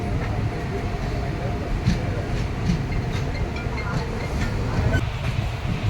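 Inside the Kottayam–Nilambur Express running between Edappally and Kalamassery, a constant low rumble of wheels on rail with steady rattling and rushing air, loud and continuous throughout.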